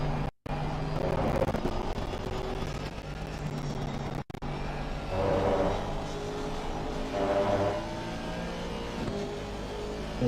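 Aston Martin race cars battle in a Suzuka endurance round of a sim racing game, their engines a steady, continuous roar with rising revs and passing swells over about ten seconds.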